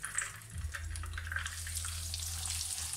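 Breaded chicken schnitzel fries in hot oil in a pan, giving a steady, close sizzle with crackling over a low hum, with no talk over it.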